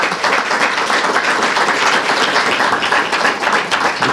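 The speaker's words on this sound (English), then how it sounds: "Let's give a big round of applause to Alicia Barton." Sustained applause from a conference audience for speaker Alicia Barton at an offshore wind event, dense and steady for the full stretch without a break.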